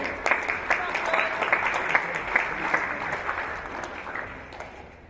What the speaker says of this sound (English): a big round of applause to the TSG please as well